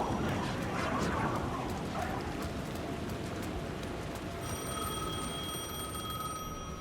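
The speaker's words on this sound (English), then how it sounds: "The phone was ringing again." A telephone rings in Alan Wake 2, with thin, high, repeated trills over a dense, noisy bed of game ambience.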